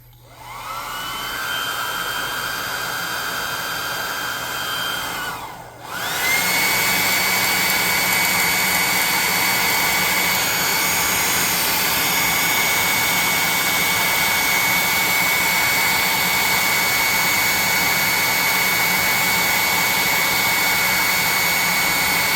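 A hair dryer blows steadily to dry paint on a freshly painted miniature. It sounds close and loud, cuts out briefly, then returns at a slightly stronger, continuous whoosh.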